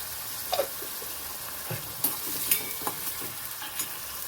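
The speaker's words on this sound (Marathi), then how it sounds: "थोडंसं मीठ घालायचं म्हणजे कांदा लवकर परतला जातो" Onion sautéing with salt in a pan, a light sizzle broken by several quick stirring scrapes and taps, fairly close and quiet.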